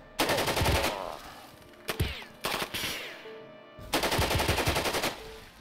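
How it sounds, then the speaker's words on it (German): Automatic gunfire from a tactical combat game set in Jagged Alliance 2, loud rapid bursts in three separate volleys with brief pauses and whining ricochet-like tails between them, no talking. "Ja, Jungs, haut nur eure ganze Munition raus."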